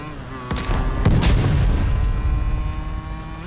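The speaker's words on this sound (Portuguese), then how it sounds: "Avião espião hostil estabelecido acima." An enemy spy plane passes overhead in the multiplayer match of Call of Duty: Black Ops Cold War, a droning engine hum swelling through a loud mid-match rumble with a sharp burst near the start.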